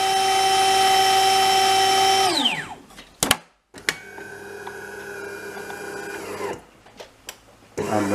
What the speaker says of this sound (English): Clearly not grinding any beans,